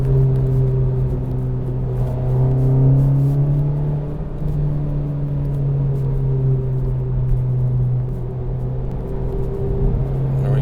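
Honda Civic Type R hot hatch cruising on a winding road, a steady engine drone with low harmonic bands rising and falling gently as it accelerates, close and continuous with no talk.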